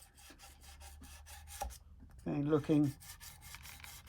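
A straight crowning file rubs back and forth along a guitar fret during fret dressing, giving a steady rhythm of soft, close rasping strokes, with someone speaking briefly in the middle.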